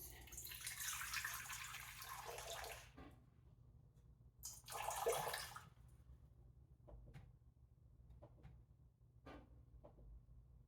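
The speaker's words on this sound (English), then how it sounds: "I'm going to add the water, 200 milliliters" Water added to a mixing bowl for challah dough, heard as two quiet bursts of running water a second or so apart, followed by a few small knocks and clinks in a quiet kitchen.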